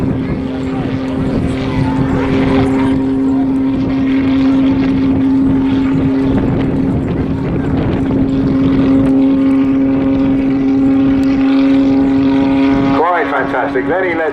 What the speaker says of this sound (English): No, it's just Richard Goodwin flying his pit special.